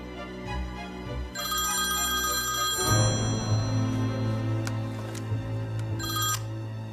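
A telephone rings with a bright electronic trill over a low droning background, the ringing pausing briefly partway through and resuming near the end, with no voices.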